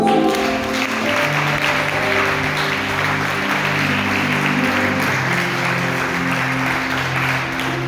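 A church congregation applauding steadily, a dense continuous wash of clapping with a sustained tone underneath, no pauses.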